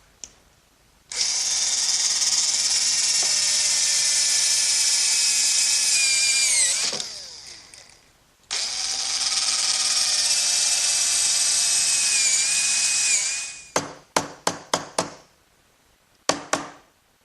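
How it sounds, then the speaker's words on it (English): A power drill with a brad point bit bores recesses into a wooden workbench. The loud, steady whine runs in two long stretches, followed by several short, sharp bursts near the end. "So I'll do that by using a brad point bit and a chisel to remove the rest of the material."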